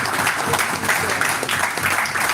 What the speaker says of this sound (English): Please, let's clap for this family.